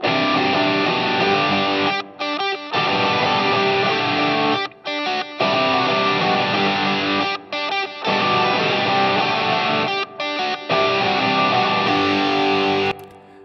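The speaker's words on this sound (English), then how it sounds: "So if we just listen to our guitars with the reverb" Distorted electric guitars ring out through a heavy reverb send, playing sustained chords in long sections broken by short stops and choppy stabs, with a wash of reverb trailing behind.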